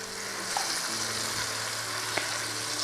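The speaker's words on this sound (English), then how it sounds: "Just want to give a light sear on it." Thin floured pieces of steak searing in a pan for pepper steak, giving a continuous, even sizzle up close with a faint tap near the end.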